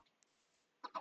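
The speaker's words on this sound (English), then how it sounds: "Haha, you freaking chickens." Chickens in the Minecraft video game cluck in two short, clipped bursts near the end after a mostly quiet moment, close and moderately loud with no speech.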